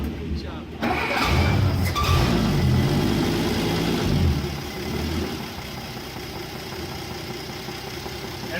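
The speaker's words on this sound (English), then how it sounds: "And it's idling." A 1967 Jeep Gladiator, dormant for over 40 years, cranks and catches into a rough, rumbling engine start that settles into a steady idle, close by, with people talking over it.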